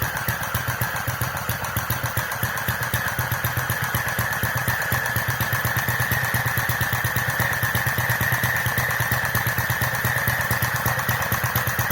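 Restored Centaur model engine running steadily, a continuous close rapid chugging beat with a droning mechanical hum that holds level throughout without pauses.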